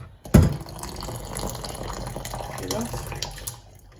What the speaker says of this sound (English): Now drain out the water.